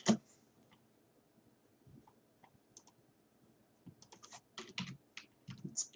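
Keys clack on a computer keyboard in irregular bursts, sparse at first and then quicker, close and fairly crisp with no talking.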